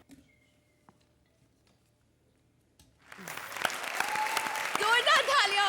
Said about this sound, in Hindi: जोरदार तालियां हो जाए कपिल और श्वेता के लिए।